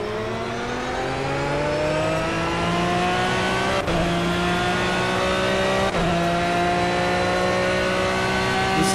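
An Aston Martin Vantage GT3 race car engine in a racing video game at Spa-Francorchamps revs loudly and steadily climbs in pitch. Two brief gear-shift breaks interrupt the climb, with no voices over it.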